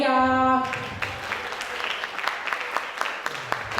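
Applause from an audience at a school graduation and farewell ceremony welcomes a performer, following a brief held musical tone; the clapping is moderate and fairly steady, with some individual claps standing out.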